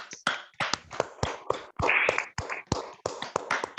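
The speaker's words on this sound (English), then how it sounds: "Let us welcome him with a round of applause." A short burst of sharp, quick handclaps from a small group at a Toastmasters meeting, brisk and irregular, heard close and alone.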